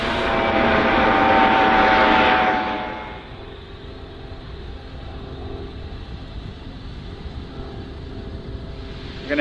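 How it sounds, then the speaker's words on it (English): A Coast Guard helicopter approaches from behind a sailboat on the water, a loud rotor and engine roar for the first few seconds that then drops to a steadier, quieter drone over wind and water noise. "Coast Guard helicopter's coming in behind us."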